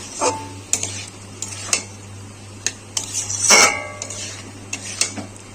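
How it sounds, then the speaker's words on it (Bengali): Spice paste of tomato and onion with chili powder being stirred and fried in a pan for a spicy tangra fish curry, with repeated close metallic clinks of a spoon against the pan over a steady low hum. "টমেটো পেঁয়াজ সবই আছে পেস্ট করা সাথে সেই মশলাটাকে আমরা কষিয়ে নেবো হচ্ছে আর একটু লঙ্কা গুঁড়ো দিয়ে দিলাম মশলা দিয়ে এবং কষিয়ে নেবো"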